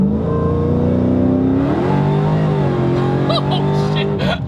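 Supercharged V8 of a 1000 hp Dodge Demon under gentle acceleration, a loud, close engine note rising steadily in pitch with the supercharger whine, a person speaking briefly over it near the end.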